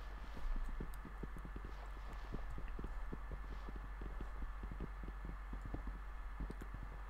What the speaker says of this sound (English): Wait, is this just a retextured horse?